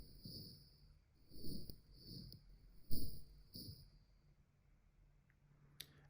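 Granular synthesizer sonification of low temperature: soft grainy bursts in short irregular clusters, with a faint steady high whistling tone above them, quiet and sparse, fading toward the end with a single click near the close.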